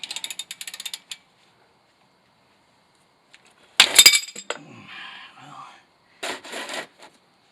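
A ratchet clicks rapidly while loosening a differential plug on a Toyota Tacoma, then after a pause comes a sharp metallic clatter with scraping and a second burst of clicking.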